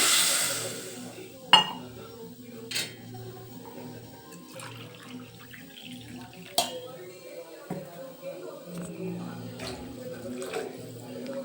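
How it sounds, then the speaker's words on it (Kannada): Water pours into a cooking pot of rice amid clinks of metal and utensil knocks, with soft background murmur. "ಈಗ ನೀರು ಹಾಕೊತಾ ಇದ್ದೀನಿ"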